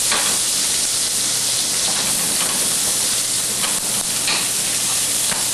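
Green pepper and onion sautéing in a hot pan, a steady close crackling sizzle with faint stirring scrapes, continuous and fairly loud throughout with no talking.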